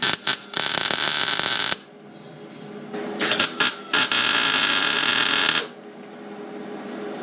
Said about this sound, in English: I'm going to weld that in quick